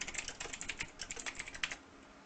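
Fingers type rapidly on a computer keyboard, a dense run of soft close clicks that thins out and stops near the end, quiet and without speech.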